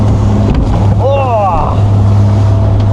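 A motorboat engine running at 3,000 revs pushing into wind and tide, giving a loud, steady drone with wind buffeting the microphone; a brief higher warbling tone rises over it partway through.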